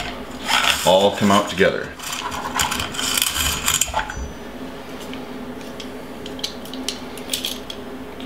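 Bolt, spring and guide rod of a TriStar KRX tactical shotgun slide out together with a brief metallic rasp and clatter, close up, partly under a voice, followed by faint small clicks.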